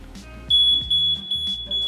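A smoke detector sounds a shrill, piercing tone in repeated short bursts, close and clear, over faint background noise.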